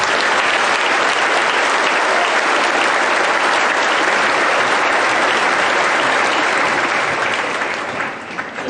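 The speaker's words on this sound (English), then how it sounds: "Please give these students a round of applause." Audience at a 2019 school promotion ceremony applauding students, a loud, dense wash of clapping from many hands that holds steady for several seconds before thinning near the end.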